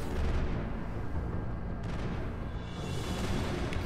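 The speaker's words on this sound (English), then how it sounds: "Switch to sniper rifle, Ashley." Sniper rifle fire in the sci-fi shooter Mass Effect, heard as a continuous loud boom-heavy rumble of battle with no distinct isolated crack, filling the whole stretch without talk.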